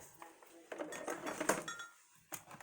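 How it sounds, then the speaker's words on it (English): A knife cuts mangoes into cubes on a board, giving a quick run of soft clicks and scraping taps close by that build to a louder cluster and then stop. "I'm going to cut them into cubes to make it a little bit easier, probably."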